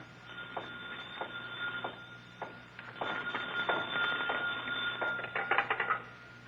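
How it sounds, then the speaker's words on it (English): A telephone rings on a night watchman's desk in a museum, its bell sounding in repeated bursts that come faster and louder toward the end, heard in a thin, old 1940s radio recording. "Suddenly, a phone rings on the desk of the night watchman, rings and shatters the silence of this modern tomb of ancient art."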